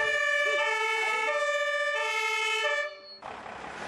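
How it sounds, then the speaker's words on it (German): A youth fire brigade engine arrives with its Martinshorn siren sounding loud and close as a steady two-tone wail for about three seconds. The siren then cuts off abruptly, leaving broadband road and engine noise. "Dazu rückten sie unüberhörbar mit Martinshorn und Blaulicht an."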